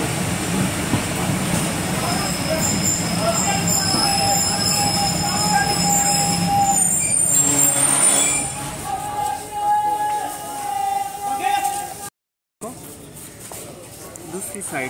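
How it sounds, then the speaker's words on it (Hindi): A train at an updated old railway station on a Karachi to Multan journey rumbles and squeals with wheel screech and metallic tones, fairly close, with someone talking over it and a brief dropout near the end. "प्यारा स्टेशन है, पुराने स्टेशन को अपडेट किया गया है नए अंदाज से।"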